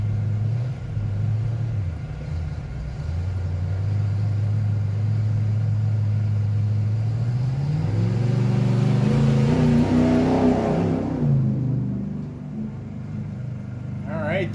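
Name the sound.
classic Ford pickup with small block 406 engine revving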